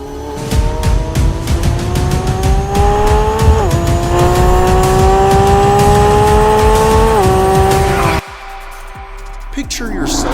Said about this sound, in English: As you fire up the engine, you're greeted by the powerful roar of the V12